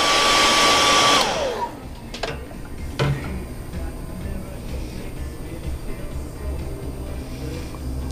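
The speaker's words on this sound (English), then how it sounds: "just give this one final little heat set on what we've laid down so far" A heat gun heat-setting fresh paint on a repainted fishing lure blows with a loud, steady whirring roar for about a second, then winds down and cuts off, leaving quiet room tone and a few faint handling clicks.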